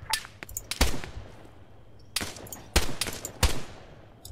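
Gunfire in the military video game Arma 3: a few separated sharp shots, then several loud close reports spaced roughly half a second apart over low background ambience.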